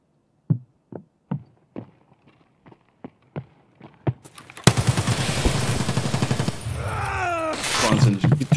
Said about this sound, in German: Die schießen wie die Wahnsinnigen